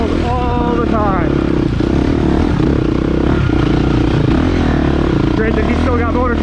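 A 2023 KTM 350XCF dirt bike runs loud and close, its engine droning and revving steadily under a rough, clattering ride on a desert track while a person talks over it.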